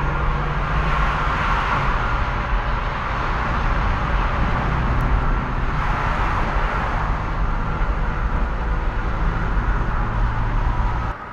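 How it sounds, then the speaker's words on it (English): Steady, loud road roar inside a 2018 Audi S5 Cabriolet at about 72 mph, a constant broadband rumble and tire hiss with no breaks. "It's a little noisy in here because there's so many cars on this pavement"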